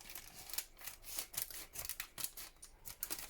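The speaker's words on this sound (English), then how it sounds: "you trim off the tab that you've just unstuck, then, only obviously it helps if you trim it off straight" Scissors snipping the tab off a plastic sandwich bag, a quiet series of crisp cuts in an irregular rhythm, close and faint with no speech.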